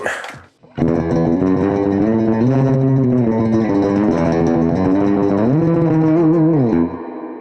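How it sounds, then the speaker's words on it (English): Electric guitar through an Amplitube 5 surf preset called Fast Spring, playing sustained chords and melodic lines with spring reverb and a wet, echoing tone, loud and alone for about seven seconds after a brief pause. "You've got genre, so you can look at all your favorite surf guitar tones, like Fast Spring."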